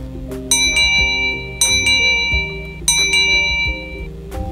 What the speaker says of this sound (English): While the smaller one creates higher energy waves.